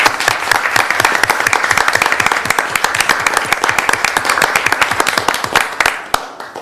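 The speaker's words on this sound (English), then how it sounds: "I'd like to thank all of these artists and maybe give them a round of applause." A city commission work-session audience applauds local artists, brisk and steady clapping from a modest crowd that stays close and loud before tapering off with a few last claps.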